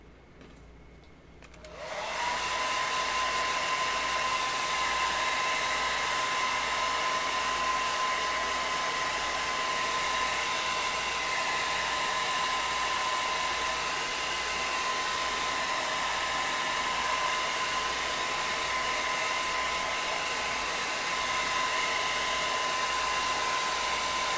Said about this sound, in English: let me hit this hair dryer real quick